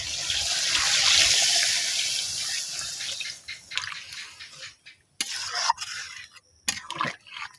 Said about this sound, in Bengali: এখন ঝোলের জন্য পরিমাণ মতো জল দেব।